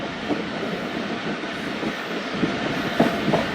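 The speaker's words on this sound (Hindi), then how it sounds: "चार बजकर 27 मिनट पर सम्मा ए केबिन पास हो रही है ट्रेन" Steady rolling rumble and rhythmic wheel clatter as the Khyber Mail train passes a signal cabin near a goods yard, with a few sharper clanks near the end.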